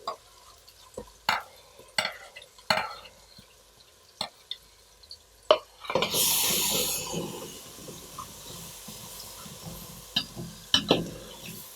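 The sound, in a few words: garlic ginger paste frying in pot for potato pulao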